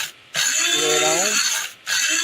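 A GTUOXIES electric grain grinder grinds coffee beans in a short, loud motor whirr lasting about a second and a half, its pitch shifting as it runs. Quieter gaps come before and after.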